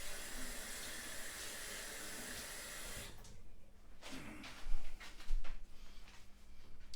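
A kitchen tap runs steadily while hands are washed during burger preparation with beef mince, a broadband rush that cuts off partway, followed by quieter clinks and handling sounds.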